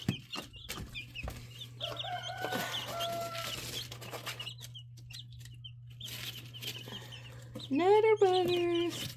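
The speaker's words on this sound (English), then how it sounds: "that light one there is a Buff Orpington over an Olive Egger" Chickens, a Buff Orpington crossed with an Olive Egger among them, cluck steadily close by over a low constant hum, ending in a louder rising squawk near the end, with some voice in the background.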